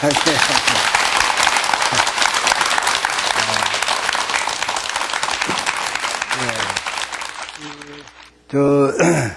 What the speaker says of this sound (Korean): 지금부터 큰 박수로 청해 듣도록 하겠습니다.